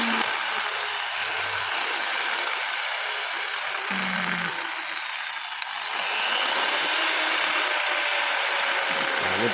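A porting and polishing rotary tool spins up faster after being turned to the right, giving a steady high-pitched whine that holds throughout with a slight dip partway, fairly close.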